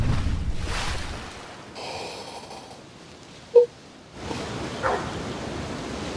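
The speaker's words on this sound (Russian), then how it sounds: "Какая собака на меня гавкает там." A dog barking in a video game: a single short, sharp bark rising out of a quiet stretch, fairly clear and alone, with soft background noise before and after.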